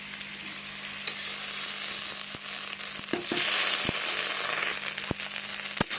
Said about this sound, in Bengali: হালকা করে এটাকে আমি ভাজবো কিছুক্ষণ